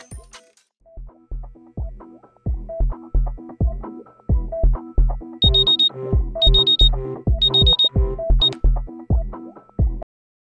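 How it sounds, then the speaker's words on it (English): An alarm clock rings in repeated bright beeping bursts over a lofi song playing on a TV, the music's rhythmic plucked notes running steadily underneath and cutting off at the end. "The song on the TV is then drowned out by the sound of Joe's alarm"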